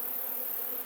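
Honey bees swarm and hum inside an open lilac-painted beehive in a Piedmont yard, a dense, steady buzz holding at close range without pause.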